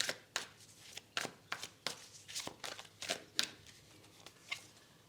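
Tarot cards slapped and slid down one after another over cards already laid out, a quick irregular run of close, crisp papery flicks and taps with no voices.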